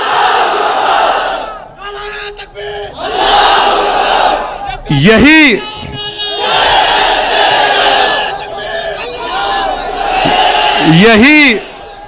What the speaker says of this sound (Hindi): तो जोर से नारा लगाइए, नारे तकबीर।